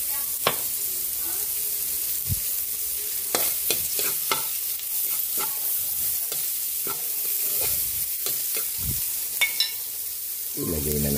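Ginger, garlic and onion sautéing together in a pan, a continuous close sizzle broken by scattered sharp clicks and scrapes of a utensil, with a brief burst of louder frying right at the end.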